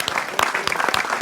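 Audience applause for the Confrérie du coco de Paimpol, a short burst of dense clapping from a crowd with some voices mixed in.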